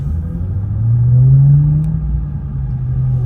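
A blacked-out Ford Mustang 5.0 pulling into a car meet gives off a deep, close engine rumble that swells in a brief rev and then settles back to a steady idle.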